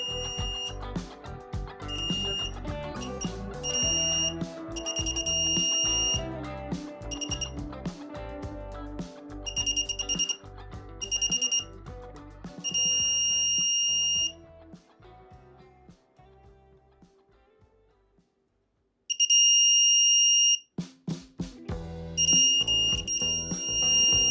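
A TECHNOVIEW bug detector device, just powered on, sounds a loud, close electronic alarm in repeated bursts of high beeping tones, with a short silent gap near the end before the bursts resume.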